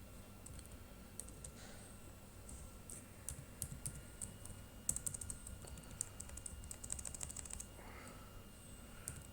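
Someone types code on a computer keyboard, producing steady, faint clicking keystrokes in irregular bursts over a low room hum, with no speech.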